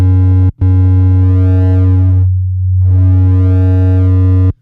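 Synthesizer tone with a buzzy, harmonic-rich square-like character from a drum and bass production session, loud and sustained with a brief gap and a filtered dip in the middle.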